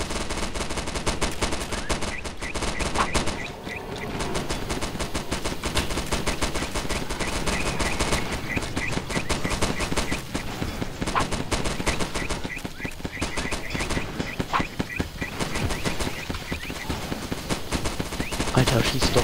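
Rapid gunfire in the co-op video game Primal Fears, dense bursts and repeated shots running almost continuously and loudly throughout, with voices talking in places.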